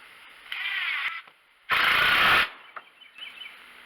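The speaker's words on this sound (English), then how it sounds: "All I'm doing at this point is just putting screws in this to hold this in place." Cordless drill or driver running screws into a wooden chicken coop panel, several whirring bursts of which one at mid-clip is loudest and longest, close by with no talk.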